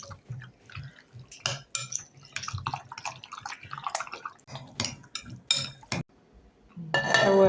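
A spoon works through mutton pieces coated with spices and red chili powder for a dry black mutton dish with cashews. There are intermittent, close metallic clinks and soft wet squelches with short pauses between strokes, and no one speaks.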